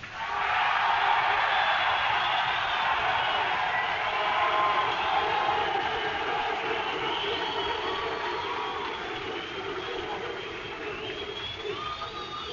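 Large crowd at a 1987 DJ battle cheering and shouting for a performer, a loud continuous roar of voices and whistles that slowly fades toward the end.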